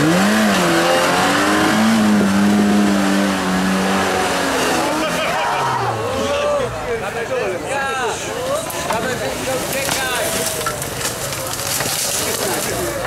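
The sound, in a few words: off-road vehicle driving through a forest at night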